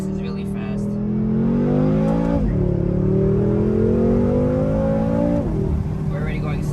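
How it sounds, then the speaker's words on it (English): A BMW M6 F06 Gran Coupe, rear-wheel drive, accelerating hard from inside the cabin; the engine note climbs steadily, dips at two quick gear shifts, and rises again, loud and close throughout. "The car is rear-wheel drive, so it's hard to get traction, obviously, but it definitely gasses really fast."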